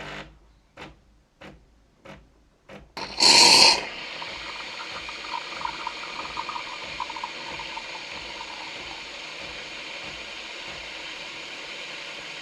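A Cecotec Cremmaet Tempo coffee machine clicks a few times, gives a short loud hissing burst as it draws in milk, then settles into a steady whirring, faintly gurgling hum while heating it.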